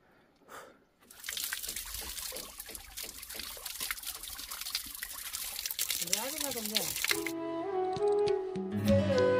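Water pours and trickles steadily for several seconds, a continuous splashing stream of drinking water in the hills, with a brief voice near the start and a tonal sound toward the end.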